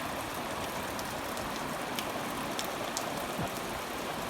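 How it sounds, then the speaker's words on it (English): Steady rain falling with no wind near a house with a carport on a farm, a dense, even hiss with scattered closer drips and taps throughout. "there's no wind, it's just rain"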